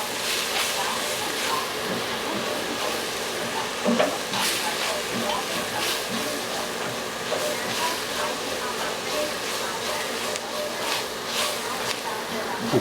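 Flour sizzles as it cooks in melted butter in a pot for New England clam chowder, a steady crackling fry running evenly throughout, close and moderately loud, with occasional stirring scrapes.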